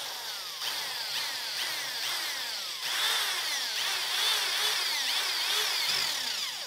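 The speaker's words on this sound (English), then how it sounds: "take your time and drill these holes" A power drill whines steadily as it bores holes into wood for a wooden toy robot, pausing briefly between holes, close and fairly loud, with no talking.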